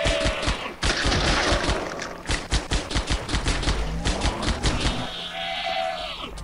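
Shotgun blasts in the Halo SPV3 video game: a dense run of loud, sharp blasts in quick succession that blur into a rapid volley with other gunfire, steady and close, with no talk.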